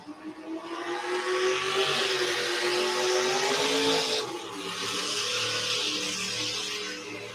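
Small-block Chevrolet-powered pulling tractor roaring at a truck and tractor pull in Whitewright, Texas, a loud sustained engine wail climbing in pitch, then dropping off and settling into a steady roar.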